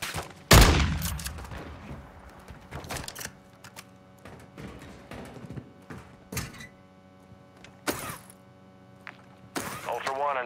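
Gunfire in a DMZ military shooter game, a heavy burst up close followed by scattered single shots and short bursts at varying distances, with game voices and radio chatter between them.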